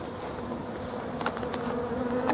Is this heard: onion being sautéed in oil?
no